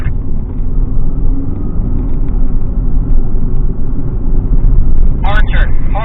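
A car engine rumbles and revs as the car is driven through hard turns in a slalom exercise, staying loud and steady throughout while a voice talks over it.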